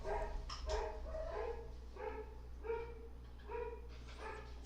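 Dogs bark repeatedly at a steady pace, several sharp woofs from a moderate distance over a low background hum.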